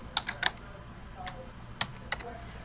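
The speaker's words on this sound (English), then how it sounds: "So then I can go here and type in that function" Keys on a computer keyboard or calculator are tapped in a few quick, light clicks, spaced irregularly over a quiet background as a function is entered.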